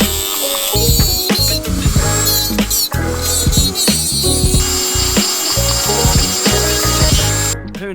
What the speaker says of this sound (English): I guess here we go with the Dremel.